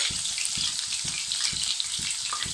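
Green chilies and chopped ginger sauté in hot oil in a pan, a steady loud sizzle with rhythmic stirring scrapes pulsing about twice a second, close up and without talk.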